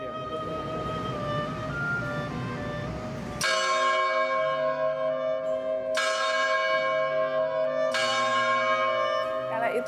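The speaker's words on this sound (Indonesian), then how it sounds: "Itu adalah satu-satunya lonceng yang ikonik ya, itu jam lama, itu jam yang buatan Jerman" Old German-made clock bell at the clock tower in Bukittinggi striking three resonant chimes a couple of seconds apart, each ringing out over a steady background hum.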